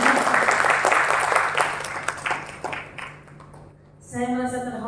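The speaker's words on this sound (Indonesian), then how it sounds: "Tepuk tangan dulu." Audience at a Rotary Club of Bandung installation and board changeover ceremony applauds, a broad clapping wash that thins out and fades, followed by a brief voice.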